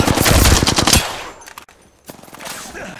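Loud, rapid automatic gunfire from Apex Legends crackles densely for about a second, then drops to quieter scattered shots with another sharp report shortly after.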